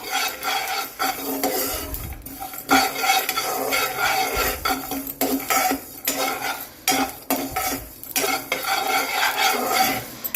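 Peanuts and sesame seeds dry-roast in a hot pan, rattling and scraping in bursts as a spatula stirs them round close by.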